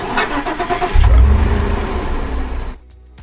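A truck engine in the Roblox video game turns over and catches, then holds a steady, loud mid-pitched running drone before cutting off abruptly near the end, with no talking.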